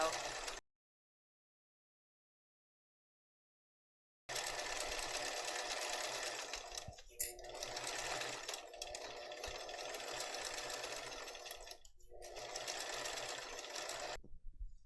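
A sewing machine stitches a purse-size Santorini tote bag in loud, continuous runs of rapid stitching after an opening silence, pausing briefly between bursts.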